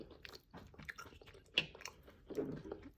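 Someone chews a bite of farro salad up close, soft wet crunches and squishy mouth sounds in a few irregular bursts, quiet and intimate with no talk.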